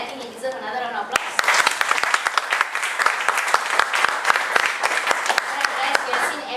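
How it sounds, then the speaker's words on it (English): Audience applause at a company update and Q&A session, a crowd clapping loudly and steadily with sharp individual claps standing out, and a voice speaking briefly at the start before the clapping builds. "I think he deserves another round of applause."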